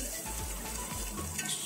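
Nasi goreng sizzling and frying in a pan while being stirred, a steady hiss with soft scraping strokes, close and moderately loud.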